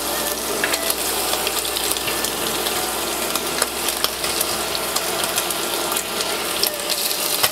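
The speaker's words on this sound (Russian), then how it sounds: "Совсем немного мы ее поджарим на кунжутном масле" Steady, loud sizzling and crackling of food frying in sesame oil, a dense hiss with scattered pops, continuous throughout with no voices.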